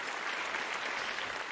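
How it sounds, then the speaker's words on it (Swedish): A short burst of applause, with dense steady clapping at moderate loudness and no talk over it. "Applåder"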